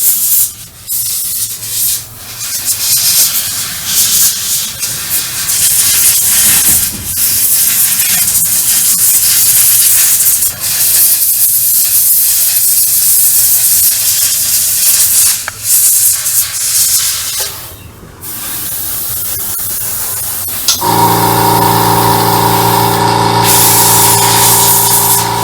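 Airbrush or spray can hissing steadily and close while painting a StuG III Ausf G model tank, with brief pauses and a rubbing, sanding-like texture before a shift to a steadier tonal hiss near the end.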